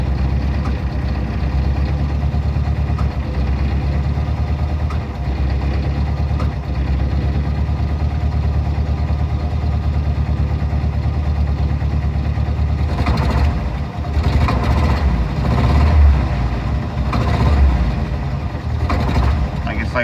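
A 1990 Jeep Wrangler YJ with the 2.5L four-cylinder engine runs steadily up close with a low, rumbling idle, its sound swelling briefly toward the end, with a possible knock that cannot be confirmed.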